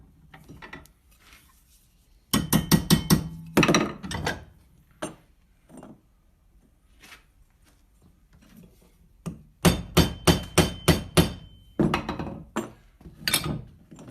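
A hammer strikes a bent forged metal piece to true it up, landing bursts of rapid, sharp, ringing blows close by, broken by short pauses and a few isolated knocks.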